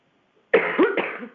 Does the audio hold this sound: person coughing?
yes